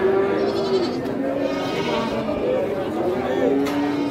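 Peranakan Etawa goats at a livestock sale bleat in a series of nasal calls, close and fairly loud, over a busy background of people chattering.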